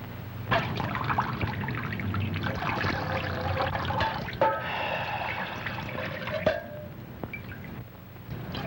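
Water running and trickling steadily for several seconds, with splashy pouring bursts and a dribbling tail, fairly close and loud in a 1940 film scene.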